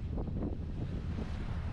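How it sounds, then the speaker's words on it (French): Headwind gusting over a sailboat at sea off Sardinia, a steady loud rumble of wind buffeting the microphone with some wave and hull noise beneath, with no voices. "On a du vent de face"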